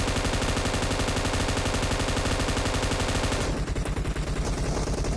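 Sustained automatic rifle fire from an M249 light machine gun in PUBG Mobile, a dense rapid burst of shots running steadily for about three and a half seconds before thinning into scattered game ambience.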